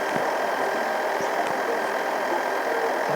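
A tractor engine in the video game Farming Simulator 14 idles with a constant low rumble and mechanical hum, unchanging throughout with no voices.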